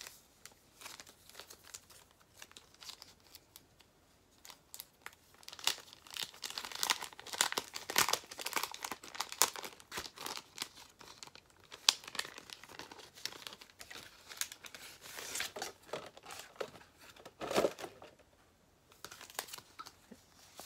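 Plastic packaging of Mandalorian and Baby Yoda sticker sheets from a Hobby Lobby haul crinkles and rustles as it is handled up close, in irregular soft bursts that swell louder in the middle and fade toward the end.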